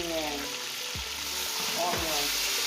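Onions dropped into a hot pan of fried rice, sizzling and frying steadily up close with scraping stirs, no talk.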